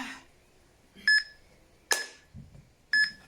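Short electronic beeps sound in separate bursts, three distinct tones spaced about a second apart, with faint background noise and a few quieter sounds between them.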